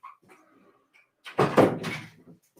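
A pet dog gives a short burst of barking and whimpering close by indoors as a door opens, preceded by faint shuffling and quieter household sounds.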